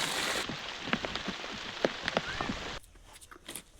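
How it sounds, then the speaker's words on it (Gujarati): Heavy rain pours onto a surface during winter, a dense steady hiss with scattered sharp drop impacts that abruptly cuts down to a quieter patter near the end; no talk. "મરચા ઉતારતા હા વરસાદ આવી ગયો"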